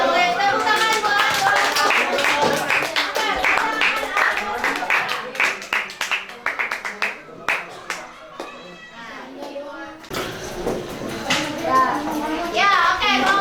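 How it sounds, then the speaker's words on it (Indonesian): A group of children claps together in rhythmic bursts, sharp and close, with young voices chattering and calling between the rounds and a brief lull before a final loud surge. "Tepuk tangan buat"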